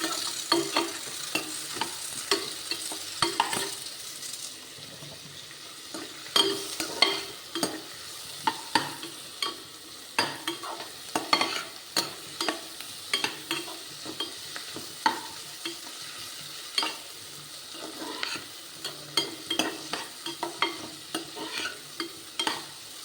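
Mutton with ginger-garlic paste is stirred and sautéed in a pan, giving a steady frying sizzle with repeated scraping stir strokes throughout, close and moderately loud, with no voices.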